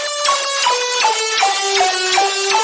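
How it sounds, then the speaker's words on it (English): Harsh synthesizer lead for future riddim bass music plays a bright, buzzy melody of rapid repeated notes with pitch swoops, loud and upfront with no voices. "But then we have this harsh but pretty lead"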